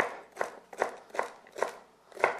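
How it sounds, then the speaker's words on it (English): A knife finely chopping celery stalks, with five crisp, evenly spaced chops heard close up and alone. "I'm going to add 2 stalks of celery, finely chopped."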